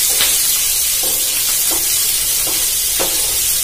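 Chopped onions land in a pan of lightly fried garlic cloves and sizzle with a loud, steady hiss, while a utensil stirs and scrapes in several short strokes, up close.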